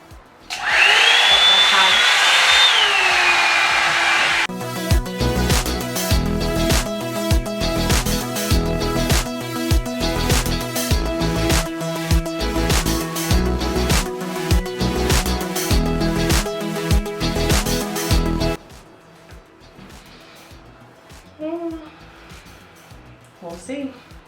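A Revlon One-step hair dryer blows on curly hair with a steady loud roar. Someone talks over it at first, then music plays across most of the clip while the drying continues.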